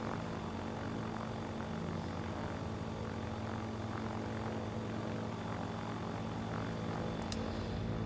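Steady, unbroken propeller-engine drone from a Kitfox Series 7 light aircraft in Microsoft Flight Simulator, flying over Siberia, holding an even, moderately loud hum throughout with no talking.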